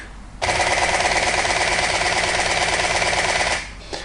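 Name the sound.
camera shutter burst at 10 frames per second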